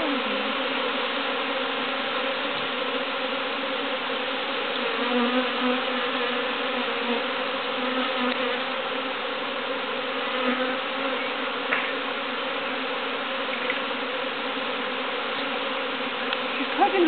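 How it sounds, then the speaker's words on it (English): A swarm of honeybees, many carrying pollen, buzzes in a steady dense drone that holds unbroken throughout, close and moderately loud with no voices. "There's quite a lot of bees with pollen."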